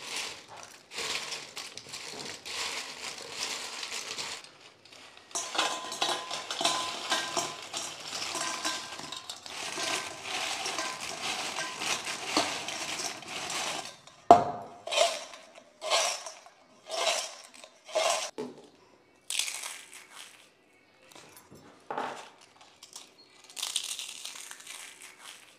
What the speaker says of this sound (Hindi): तो चलिए इनका आपको क्रिस्प सुनवाती हूँ कितने क्रिस्पी बने